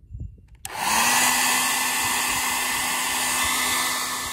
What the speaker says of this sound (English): So I'm going to use this hair dryer.